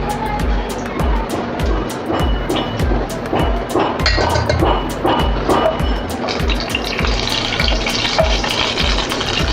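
Two dried red chilies dropped into hot oil for a dal tadka, frying with a steady crackling sizzle and popping spatters, loud and close throughout, with no talk over it.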